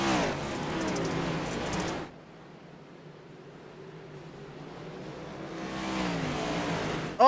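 Race car engines roaring on the Bristol dirt track in a racing video game, a loud pass fading to a distant hum before another car swells in close.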